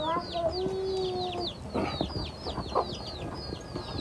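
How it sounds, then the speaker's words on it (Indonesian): Chickens in a backyard coop beside a house cluck and chatter in short, busy bursts, with chirping birds in the background and a brief rooster-like call near the start. "di samping rumahnya ini terdapat kandang ayam"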